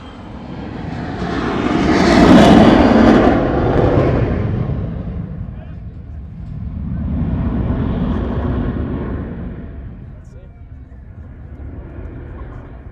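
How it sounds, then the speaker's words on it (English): An F-18 Super Hornet jet passes low at an air show, a loud, broad engine roar that swells, fades, then rises again in a second, weaker surge before dropping off, heard from the crowd side with no clear speech. "And there you have it for the F-18 Super Hornet."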